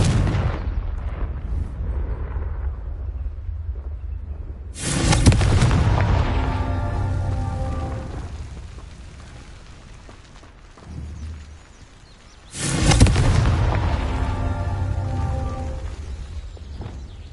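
Confringo fire spells in Hogwarts Legacy blast twice, each a sudden loud booming explosion that rumbles and fades over several seconds, separated by quieter ambient sound, with no talk.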